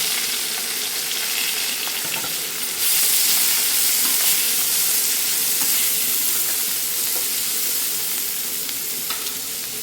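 Chopped onions frying in a pan with fenugreek seeds for an Andhra-style egg and dried fish curry, a loud, even hiss of sizzling oil that swells a few seconds in and continues steadily up close.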